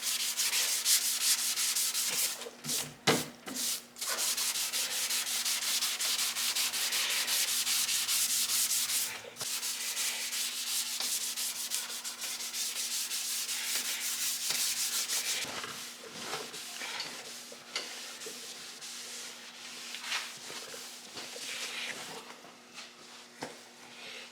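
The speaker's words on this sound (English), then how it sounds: "I'll show you, you know, how I sand this down." Primer and guide coat being sanded by hand on Toyota Cressida car fenders: a steady, close rasping rub that runs in long strokes, with a few brief pauses and no talking.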